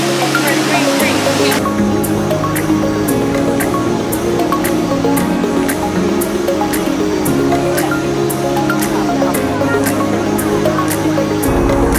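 Rushing water of the Trevi Fountain in Rome, a loud, constant splashing roar that fills the scene, with faint crowd murmur and a few sharp clicks over it.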